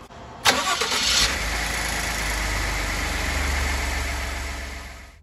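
A Ford F-150 pickup's 2.7 EcoBoost engine, after turbo replacement, cranks and catches with a sharp burst, revs briefly, then settles into a steady, rumbling idle close by.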